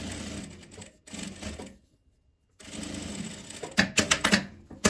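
Sewing machine running in steady stitching bursts as it sews lining fabric face to face, with a pause in the middle and sharper rhythmic clicks near the end.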